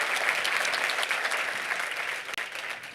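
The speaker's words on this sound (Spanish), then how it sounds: "Let's give him another round of applause" A large audience at a motivational seminar applauds in a dense, steady roar of clapping that fills the whole stretch, loud and continuous with no talk over it.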